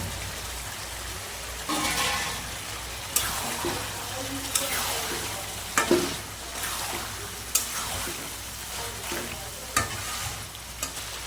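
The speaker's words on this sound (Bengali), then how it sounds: "এবার আলু দিয়ে আর একটু কষিয়ে নেব" Potatoes and tomatoes sauté in a hot pan, a continuous sizzle broken by repeated sharp scrapes and clacks of a spatula stirring through them.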